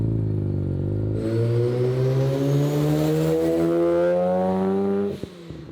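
A restored Mazda FC RX-7 turbo engine accelerates hard through one pull, its loud rising drone climbing steadily for about four seconds before the throttle closes with a short chattering release at the end.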